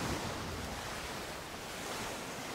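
Steady wind and ocean waves roll at sea in the pirate game Skull and Bones, a constant broad rushing wash with no breaks, fairly soft and without voices.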